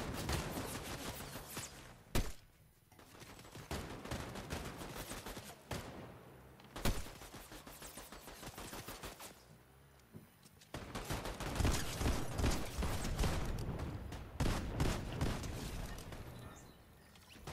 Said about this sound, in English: What's all this gunfire going on out here?